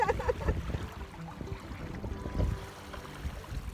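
Canoe paddles stroke through lake water on a backcountry trip in Temagami, giving a steady low watery swish and trickle with irregular splashy pulses, close and moderately loud.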